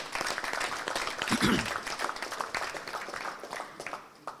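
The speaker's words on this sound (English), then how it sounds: "Can you give a big round of applause to the clubs?" Moderate applause from an audience at a regional rugby club competition launch, honoring the participating clubs, with mixed claps and some background voices over a few seconds.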